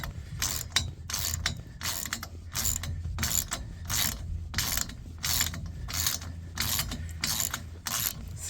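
A ratchet winch is cranked in a steady rhythm, about a dozen clicking ratchet bursts spaced under a second apart, fairly close and moderately loud, with no talking.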